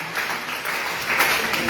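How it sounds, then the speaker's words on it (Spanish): A church congregation claps steadily in a dense wash of applause that swells slightly toward the end, with a faint voice mixed in. "Den buen aplauso al Señor por eso"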